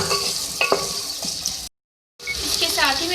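Whole spices (dry chillies, cloves, green and black cardamom, cinnamon) sizzle steadily in hot oil, a loud close hiss with a few pops, briefly cut to silence, then returning with bubbling crackle.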